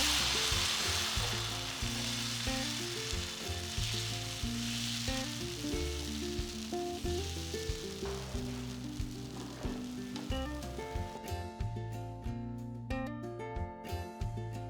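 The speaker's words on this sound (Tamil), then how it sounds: "தோசைக்கல் நல்லா சூடானதும் ஒரு கரண்டி மாவு எடுத்து ஊற்றி ஈவனாக தேங்க" Chana dosa batter of chickpea sizzles steadily on a hot griddle, a close, continuous fry with soft stirring and scraping touches, no talking.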